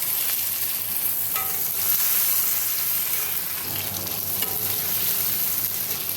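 Tomato and green chili frying in hot oil seasoned with cumin seeds and dried red chili, a steady close sizzle with occasional stirring scrapes, no talking.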